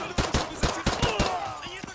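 A sentry gun firing in a video game, a rapid series of about ten sharp close shots in quick uneven rhythm, with a faint voice beneath.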